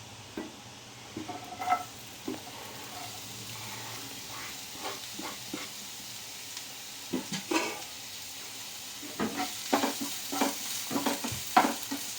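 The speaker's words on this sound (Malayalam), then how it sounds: "പാൻ ചൂടായിട്ടുണ്ട് വെളിച്ചെണ്ണ ഒഴിക്കട്ടെ" Coconut oil sizzling and being stirred in a hot pan, heard as a soft steady hiss with scattered scraping strokes and clicks, more frequent toward the end, with no talk.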